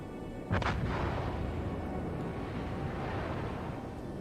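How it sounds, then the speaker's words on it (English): A German battleship Pommern fires an armor-piercing main-gun salvo in the World of Warships naval game: one heavy booming blast followed by a long rumbling roar that slowly fades. "Pommern with the devastating armor-piercing salvo"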